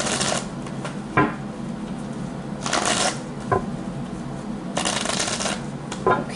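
Playing cards riffled and shuffled in several quick bursts, close and crisp, with soft tapping and handling between them and no talking.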